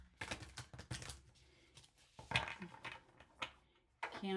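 Close, dry shuffling and riffling of long, stiff oracle cards in uneven bursts, with sharp flicks and rustles and a short pause before another quick shuffle.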